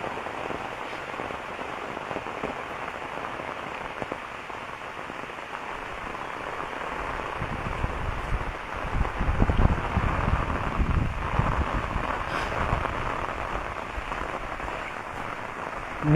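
Steady rain falls on a village dirt path on an overcast day, a dense, even hiss with light wind buffeting the microphone and no voices.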